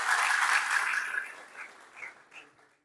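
A congregation at a church general assembly in Jimma, Ethiopia applauds together. The dense, moderately loud clapping thins out and fades into a few scattered final claps.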